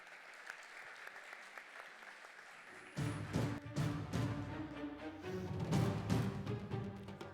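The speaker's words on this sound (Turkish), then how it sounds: "yönetim kurulu başkanı sevgili Tuncay Tapar alkışlarla sahneye geliyor" At a Turkish awards ceremony, the audience applauds as a presenter comes on stage: a soft, distant patter of clapping at first, then louder, fuller applause joined by stage music partway through.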